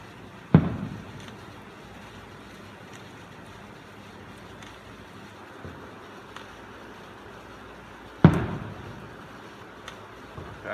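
Fireworks bursting in the distance over houses, two clear booms several seconds apart with a fainter pop between, against a windy outdoor background.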